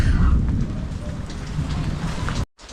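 Heavy rain falls near a hut on the shore during a lightning storm, with a steady loud hiss and low thunder rumbling underneath. It cuts out briefly near the end.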